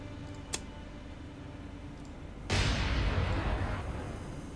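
Naval guns firing in the War on the Sea naval combat game: one sharp distant report, then a heavy booming blast that rumbles and fades over a steady engine drone.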